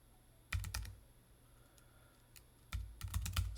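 Two short bursts of rapid key taps on a computer keyboard, close and fairly quiet, separated by a near-silent pause with a few stray clicks.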